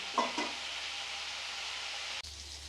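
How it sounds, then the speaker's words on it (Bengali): Sliced pointed gourd (potol) fries in oil in a pan, giving a steady close hiss of sizzling with a few clatters of a stirring utensil near the start and a brief bump toward the end. "এভাবে এটাকে ভালো করে আমি ভেজে তুলে নেবো"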